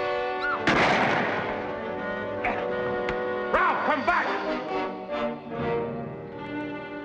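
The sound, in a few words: gunshot in a western movie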